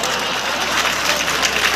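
An audience at a Hindi comedy and poetry mushaira claps, a loud dense wave of applause filling the whole moment.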